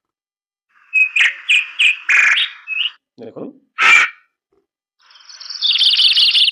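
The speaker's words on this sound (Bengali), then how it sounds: "এই নিচের দিকে পাখির ডাক আছে" Library bird-chirp sound effect: a run of bright, rapid tweets and calls, loud and close, followed by a lower croaking burst, one sharp call and a final sustained trilling chirp, with a single spoken word in between.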